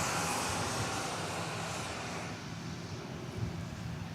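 An American Airlines Boeing 737-800 jet bound for Austin, Texas, at DFW Airport, a steady broad engine roar that fades slightly as it moves away.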